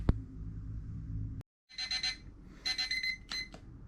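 A kitchen-style timer alarm goes off after a thirty-minute countdown, giving bursts of shrill electronic beeping in short clustered pulses, close and clear after a brief hum cuts to silence.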